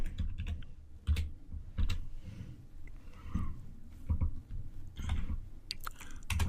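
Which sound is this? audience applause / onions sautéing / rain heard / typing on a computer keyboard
typing on a computer keyboard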